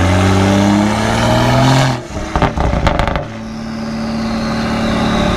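Tuned BMW 340i F30 with its exhaust popping and banging on downshifts: a loud, steady engine drone breaks into a quick cluster of sharp cracks and bursts, then settles back to a smooth running hum.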